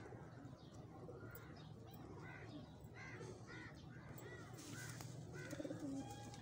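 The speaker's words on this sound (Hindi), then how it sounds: "ये है जी दूसरा कबूतर जो मेरे हाथ में आपको देख रहे हैं" A young pigeon held in a hand, with crow-like caws and pigeon coos from birds around it, steady faint outdoor ambience throughout and bird calls growing busier toward the end.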